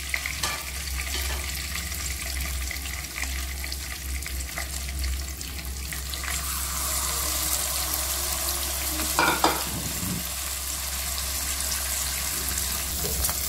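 Mackerel frying in hot oil in a pan gives a steady, dense sizzle that runs throughout, with a brief louder crackle or clatter near the end.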